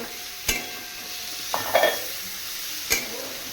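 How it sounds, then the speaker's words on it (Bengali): Onion fries in a wok for pasta: a low, soft sizzle runs throughout, with a few brief clinks and scrapes of a spatula against the metal. "এবার পেঁয়াজটাকে দিয়ে দিলাম দেখো পেঁয়াজটাকে দিয়ে দিচ্ছি"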